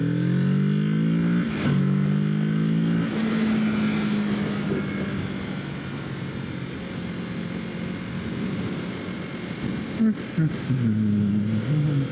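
A motorcycle engine runs steadily while riding, with a loud continuous drone and rising and falling revs, and a brief rev change near the end; wind rush fills the background, with no talk heard.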